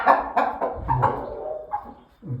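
A Jersey Giant hen clucks inside a coop, giving a short run of close, fairly loud clucks with short gaps, then a final cluck after a brief pause.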